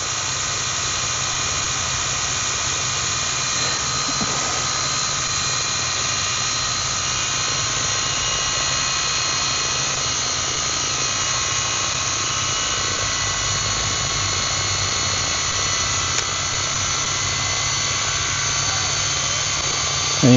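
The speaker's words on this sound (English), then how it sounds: "And do a slow spool up, looking for any vibrations." A Roban 800-size UH-1D Huey RC helicopter spools up outdoors in light wind, making a steady, loud turbine-like whine with rotor hum. The tone holds nearly constant for about twenty seconds and no one speaks.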